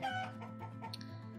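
Chickens cluck in the farming game Summer in Mara, a few soft repeated clucks over a steady low background hum, faint and continuous without talking.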